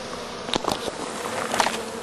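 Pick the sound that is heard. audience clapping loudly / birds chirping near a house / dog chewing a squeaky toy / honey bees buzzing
honey bees buzzing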